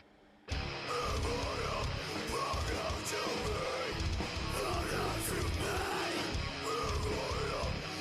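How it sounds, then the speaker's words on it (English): A hardcore song plays with harsh, poorly executed screamed vocals over loud, dense driving guitars and pounding drums, starting suddenly and continuing throughout. "Yeah, these are bad screams."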